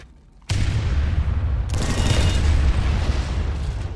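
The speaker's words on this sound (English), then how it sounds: "so you can get that explosion fairly close together" Landmine explosions in PlanetSide 2 go off as two loud, booming blasts in quick succession, one suddenly bursting from near silence and a second, sharper one landing about a second later, with rumbling gunfire-like roar sustained between them.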